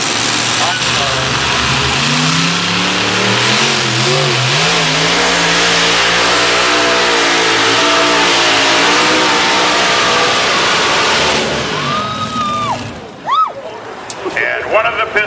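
A pulling tractor's engine roars at full rev down a dirt pulling track at a county fair, loud and sustained with rising tones, then cuts out abruptly as the engine fails, leaving crowd noise and an announcer's voice.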